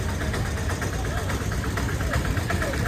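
A vehicle engine runs with a steady, close rumble while reversing, holding an even level throughout.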